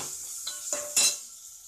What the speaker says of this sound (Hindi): हरी मिर्च अनियन सब डालकर एक 2 मिनट तक चम्मच से हिलाते रहिए